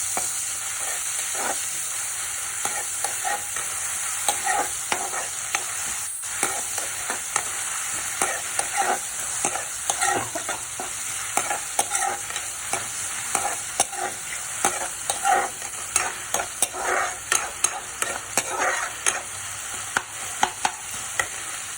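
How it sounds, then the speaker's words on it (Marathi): Onion sautés in a pan over a high flame, a continuous close sizzle with frequent scraping and clicking stir strokes that come faster and louder toward the end. "आणि असा कांदा आपण परतून घेऊया।"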